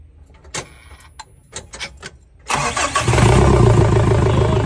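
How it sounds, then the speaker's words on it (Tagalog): A Mazda RF car engine cranks with a few short bursts, then catches and roars to life, settling into a loud, steady running rumble. "So try natin paandarin. Umandar na ba talaga?"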